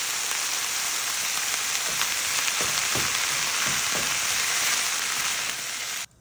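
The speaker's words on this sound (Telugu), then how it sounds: "ఇప్పుడు మనం దీంట్లో ఒక మొత్తం హోలు ఎల్లిపాయ వేసుకుందాం. ఇది కూడా కొంచెం నూనెలో పక్క వేగితే చాలు." Whole garlic frying in a little oil in a kadai, a soft continuous sizzle with a few light crackles and stirring taps, fairly quiet and close, ending abruptly.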